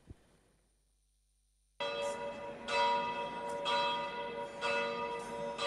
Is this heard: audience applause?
no